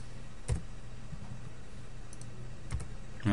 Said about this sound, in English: I think my typing is seriously letting me down here.